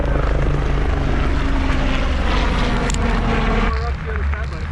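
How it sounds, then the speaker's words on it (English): A rescue helicopter flies by during a gravel bike race, its loud steady engine and rotor roar filling the scene before easing slightly near the end, with voices faintly mixed in. "There's our rescue copter."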